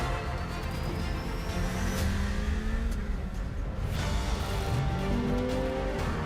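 A Ferrari sports car engine revs with rising and falling tones, the note climbing through gears and sweeping up again, steady and fairly loud with no talk.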